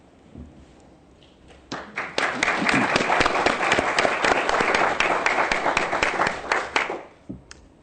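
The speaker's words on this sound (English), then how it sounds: "I know we've just done some applause" A dense, sustained round of audience applause at a public announcement event for a design competition shortlist, swelling after a quiet start, holding steady for several seconds, then tapering off with a few final claps.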